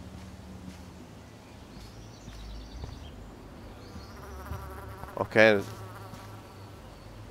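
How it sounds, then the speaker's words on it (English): A bee buzzes in the video game Life Is Strange, a short droning hum that swells loudly near the end over a low background bed, with a brief spoken word. "What's this here? A bee?"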